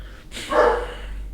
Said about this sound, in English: Hey, dogs! Shut up!